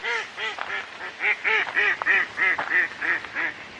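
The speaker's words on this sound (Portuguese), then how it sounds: "Estou competindo com os patos aqui." Ducks quack over and over in a steady, nasal chorus close by, with no talking over the calls.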